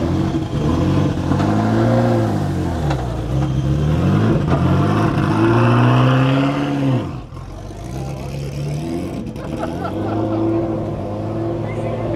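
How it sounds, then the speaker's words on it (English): A Ferrari F40 LM on straight-through pipes revs hard and accelerates up a runway, its loud, raw engine note climbing and falling through repeated sweeps, with a brief dip before pulling again. "The LM is sounding like it's got straight through pipes."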